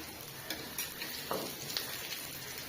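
Dried red chilies frying in hot oil in a rural Bengali home kitchen make a close, steady sizzle, with a few light clinks of stirring, and no talking.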